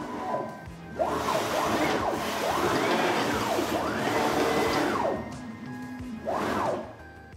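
A Raw Creative CNC machine traversing at a very high feed rate makes repeated rising-and-falling whining sweeps from its motors, each lasting about a second, loud and close over a constant mechanical hum.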